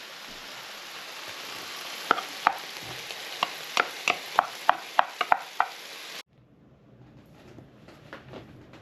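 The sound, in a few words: rice being stirred into a hot frying pan with sriracha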